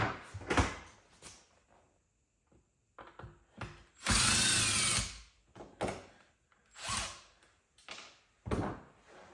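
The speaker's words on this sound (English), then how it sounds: "Step one to take it apart is remove these Phillips screws." Phillips screws are worked out of a Mityvac hand vacuum pump with a screwdriver and pliers, giving close, intermittent clicks and scrapes and one loud grinding burst in the middle.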